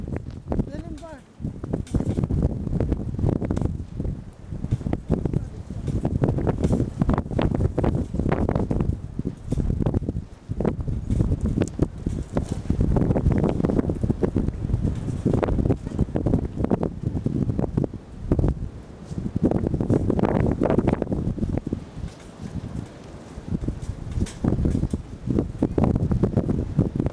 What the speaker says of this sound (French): il y a un gros coup de vent fort qui arrive.